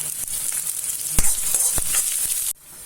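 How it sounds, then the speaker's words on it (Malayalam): Sliced onions sautéing in hot oil in a pan, a steady close sizzle with a couple of sharp pops or stirring knocks, cutting off abruptly near the end with no talk. "സവാള അധികം മുരിയണ്ട, നല്ലപോലെ വാടിയാൽ മതി, കറുത്തു പോകരുത് സവാള."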